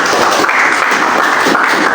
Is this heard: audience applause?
yes